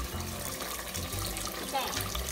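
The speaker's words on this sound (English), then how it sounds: "Second, we're going to wash the rice." Rice being washed under a running kitchen tap, a steady close splash and trickle of water with faint voices in the background.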